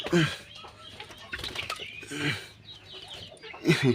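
Hens cluck in short bursts near the listener inside a henhouse, with a few louder clucks toward the end and some faint rustling between them.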